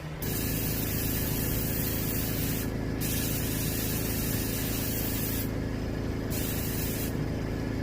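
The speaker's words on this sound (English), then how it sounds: "And you just spray the bottom fins," An airbrush or spray gun hisses steadily while white paint goes onto the bottom fins of a striped bass skin mount, a close continuous spray with a few brief changes in tone and no speech.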